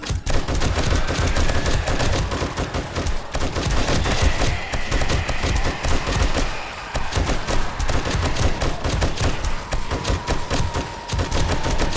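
A rapid, continuous rattle of automatic gunfire from a turret shooting at zombies in the survival game 7 Days to Die, Alpha 21. The shots come loud and close, with almost no breaks.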